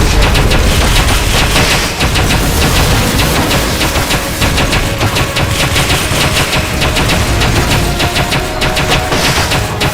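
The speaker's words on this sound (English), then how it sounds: "Firing rocket launcher." Rapid rocket-launcher fire in the Metal Gear Solid Peace Walker video game gives loud, dense, rattling bursts that are sustained and continuous for the whole stretch.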